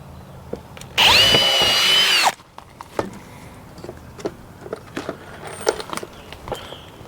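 A power drill pre-drilling green wood siding whirs loudly for about a second, then stops, followed by scattered knocks, taps and light handling noises.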